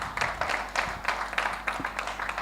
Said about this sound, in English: Once again, let us applaud Lynn.